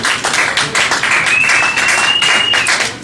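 Audience clapping at a café comedy night in Richmond, Virginia: a close, loud, continuous round of hand claps with a thin whistle or cheer threaded through the middle.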